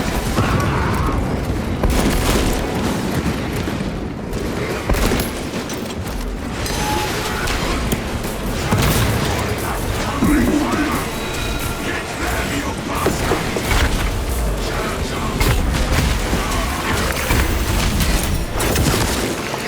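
Frag grenade blasts in the video game Warhammer 40000: Space Marine 2 boom and crash through a dense, continuous wall of loud combat noise, with clanking mechanisms and gunfire running beneath them.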